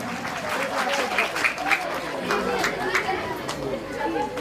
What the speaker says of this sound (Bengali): একবার জোরে হাততালি।